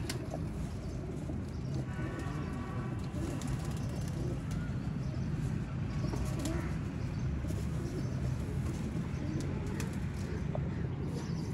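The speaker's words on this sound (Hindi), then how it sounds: "देखो दोस्तों कबूतर" Pet pigeons kept by a fancier in a loft, cooing softly amid steady low background noise, with faint bird calls over a continuous ambient hum throughout.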